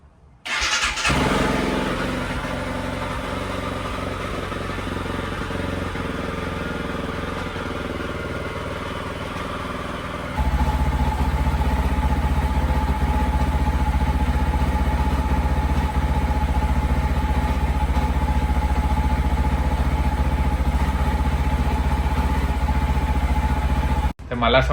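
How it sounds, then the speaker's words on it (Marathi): A motorcycle engine starts up and settles into a steady, loud idle, growing fuller and deeper partway through as it warms, ahead of a snowstorm bike trip in the USA. "पहिले जरा बाईक चालू करतो आणि गरम करतो"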